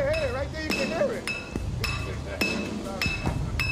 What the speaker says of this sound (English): it's time to hammer it into position